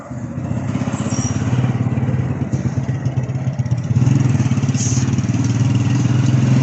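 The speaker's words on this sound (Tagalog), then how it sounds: "May motor, guys." A motorcycle on a road during a morning jog, its mid-pitched engine chugging and pulsing nearby, briefly easing then swelling louder as it passes.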